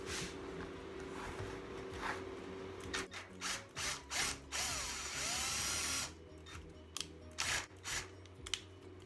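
A power drill bores into a wooden jewelry frame in several short bursts, close up, with brief pauses and handling noises between them.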